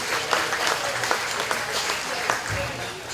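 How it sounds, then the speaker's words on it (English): Applause from a county fair hog show crowd for the exhibitors of a heavyweight breeding gilt class, a steady wash of clapping throughout with a voice speaking over it. "let's give all these exhibitors a nice round of applause"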